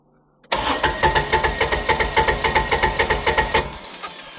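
Starter cranking on a Kawasaki Mule 3010 utility vehicle engine, a close, loud rhythmic churn of about twenty even pulses over three seconds, then cutting off without the engine catching.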